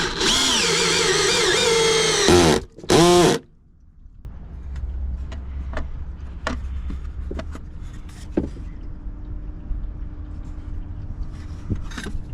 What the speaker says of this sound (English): Now I just have to level it up, start screwing it in place.